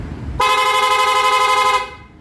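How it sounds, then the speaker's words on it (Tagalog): Piaa horn fitted to a Honda Click V3 scooter sounds one sustained, bright, loud blast lasting about a second and a half, close by, then cuts off abruptly. "Yun yung original Piyaya horn, para rapid ako"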